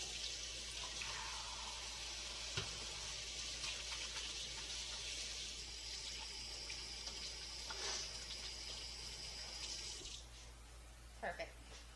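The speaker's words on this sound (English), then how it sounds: "Let me rinse my hands, please." Hands being rinsed under a running kitchen tap while baking banana bread, a steady gushing stream of water that carries on throughout, with a few brief light knocks near the end.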